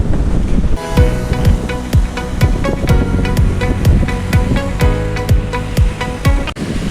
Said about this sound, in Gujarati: મોજા બહુ જબરા જબરા આવે યાર